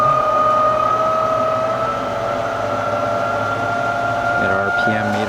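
A Lehigh Gap type engine lathe runs at variable speed with a steady, loud mechanical whine. Near the end its tone steps and shifts as the speed changes.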